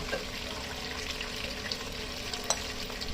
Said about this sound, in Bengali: মাংস থেকে পানি বের হয়ে এসে শুকিয়ে যাওয়া পর্যন্ত আমি এটাকে নেড়ে ভেজে নিব